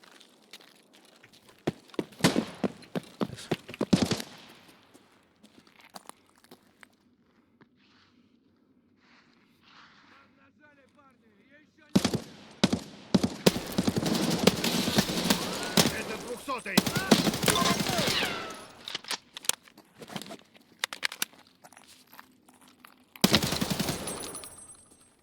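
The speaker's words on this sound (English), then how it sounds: "Sounds like a couple of AI NPCs having a little fun firefight." Bursts of automatic gunfire from AI NPCs in a firefight in the video game Escape from Tarkov, loud volleys in several clusters with quieter gaps and faint footsteps between, a voice talking at times.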